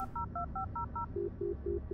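Keypad beeps from an old Nokia mobile phone in the Blair Witch horror video game: a quick run of six paired dual-tone presses followed by four lower, evenly spaced beeps, close and clear over a low background hum.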